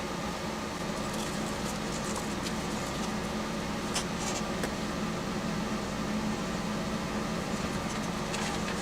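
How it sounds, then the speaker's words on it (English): A PS-30A ultrasonic cleaner of 1.6 liters running, giving a steady, even hiss-like hum with no change across the stretch, quiet and alone. "Ultrasonic cleaner."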